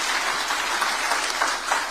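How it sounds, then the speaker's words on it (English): A large audience applauds after a presidential address at the World Chambers Federation Africa Summit in Nairobi, with dense, sustained clapping filling the hall alone. "Another round of applause."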